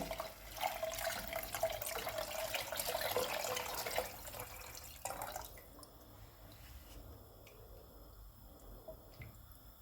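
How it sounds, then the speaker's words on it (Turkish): Four glasses of water run and splash into a pot of soup for several seconds, then stop, leaving faint drips and quiet kitchen noise. "Şimdi dört bardak suyumuzu da tenceremize koyalım."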